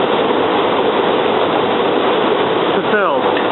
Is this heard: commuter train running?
yes